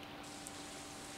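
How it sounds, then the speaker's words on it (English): Steady, faint hiss of rain falls in Stardew Valley, an even wash of soft patter with no distinct drops and no talking. "Ooh, it's raining."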